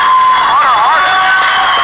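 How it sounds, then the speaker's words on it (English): A wrestling crowd applauds and cheers for wrestler Jeannine the Machine, a loud, continuous wash of cheering with a whistle-like whoop rising and falling over it. "Let's see round of applause for Jeannine"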